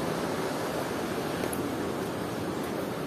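Strong water rushes at Wawa Dam in a steady, dense roar with no breaks, heard alone and fairly distant.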